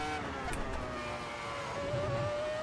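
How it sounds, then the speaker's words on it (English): A naturally aspirated 850-horsepower Ferrari V10 in the racing game Assetto Corsa screams at high revs, its whining engine note climbing and holding steady, heard faintly and continuously for a few seconds. "850 horsepower from that V10 engine, naturally aspirated, no turbo lag whatsoever"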